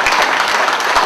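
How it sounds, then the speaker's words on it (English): An audience at a club meeting claps in a short, close burst of applause. "Big round of applause."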